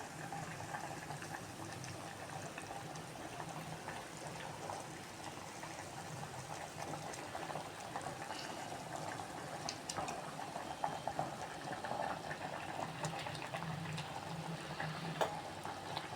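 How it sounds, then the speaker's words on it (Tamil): Tamarind curry made with pudikarunai yam bubbles at a rolling boil in a pot, giving a steady, even, close-up simmering and sizzling hiss with no talk. "பாருங்கள் நல்லா கொதிச்சு வருது."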